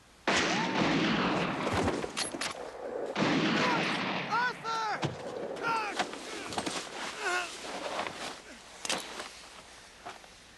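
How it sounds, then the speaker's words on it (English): Gunfire in a TV drama shootout, sharp shots and bursts cracking through a tense scene, with people talking in between. "Nice shooting, Clive."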